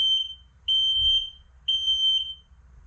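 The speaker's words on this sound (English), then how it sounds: "you're going to have a smoke alarm as well" Three short, loud, piercing beeps from a smoke alarm being tested inside a 2023 Dutchmen Astoria 1500 Series 2533RDF RV, each tone held about half a second with brief gaps between.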